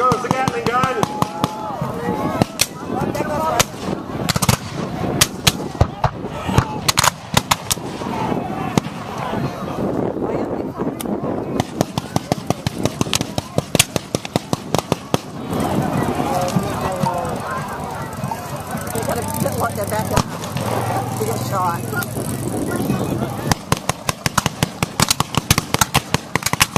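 A Gatling gun fires in rapid bursts at a Civil War reenactment raid in Brooksville, its clattering volleys ringing out over a noisy outdoor crowd, with people talking throughout.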